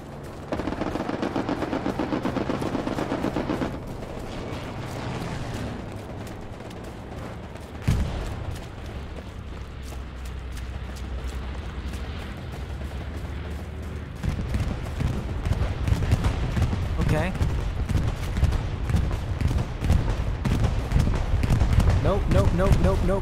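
Sustained World War II machine gun fire in Hell Let Loose, long rapid rattling bursts at mid distance that continue through most of the stretch, with players talking over it.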